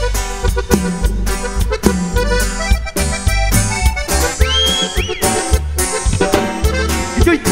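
Live cumbia band playing a song at an outdoor show in San Andrés Xecul, Guatemala: loud, dense full-band music with a steady driving beat, heavy bass, and a melody line that slides and bends midway through.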